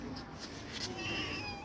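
A cat meows softly with a drawn-out, faint cry against a steady background hiss, close by with no talking.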